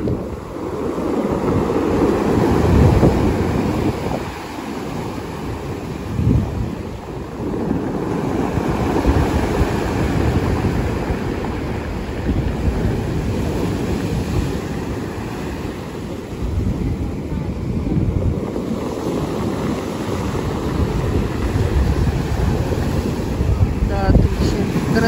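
Stormy sea at Volkonka: surf crashes and rolls onto the shore in a continuous loud roar while strong gusts buffet the microphone throughout.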